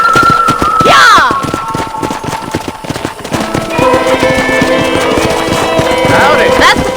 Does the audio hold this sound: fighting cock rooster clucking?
no